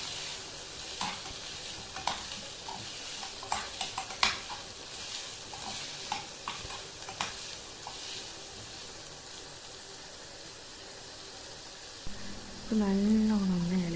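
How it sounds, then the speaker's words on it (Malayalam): Chopped onion sautéing in a pan for Kannur-style squid curry, with a soft steady sizzle under scattered scraping and stirring clatter of a spoon, then a louder hum near the end. "അതിലേക്ക് മുറിച്ച് വെച്ച സവാള ചേർക്കുക. എന്നിട്ട് അത് നല്ലോണം വഴറ്റിയെടുക്കുക"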